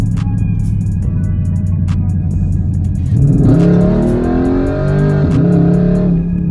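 A 2012 Dodge Charger SRT8 with a pedal commander installed revs and pulls hard, its loud V8 engine note rising sharply in pitch as it accelerates away, with no talking over it.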